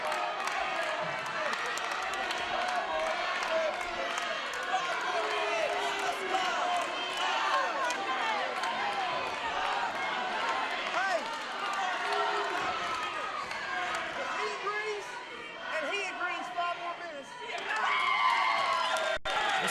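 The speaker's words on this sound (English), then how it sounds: "Listen to this crowd screaming for 5 more minutes" A wrestling crowd at an NWA Smoky Mountain event cheers, claps and screams continuously, a dense roar of many voices that swells near the end.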